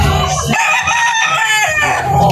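A red kelso broodcock rooster crows loudly and close by, one full, drawn-out call filling the whole moment.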